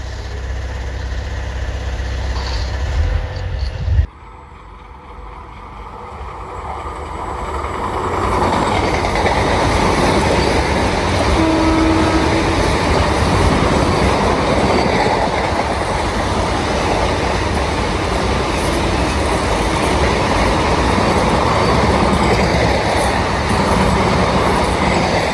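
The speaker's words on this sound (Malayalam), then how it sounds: "ഇത് മംഗലാപുരം എക്സ്പ്രസ് വരുന്നുണ്ട്." The Coimbatore to Mangalore express train passes through Ezhimala railway station, a loud sustained roar with rolling wheel clatter and engine rumble that swells after a few seconds and holds steady close by.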